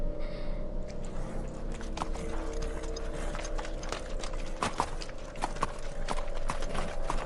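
Horse hooves clip-clop steadily on hard ground in an early 20th-century English street setting, a close rhythmic clatter mixed with mechanical creaking and rattling, without speech.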